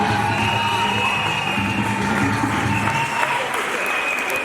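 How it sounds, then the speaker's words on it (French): A church congregation at an annual convention opening in Gabon applauds the children, sustained dense clapping from a large crowd with scattered cheers, filling the room steadily for a few seconds. "Acclamons les enfants."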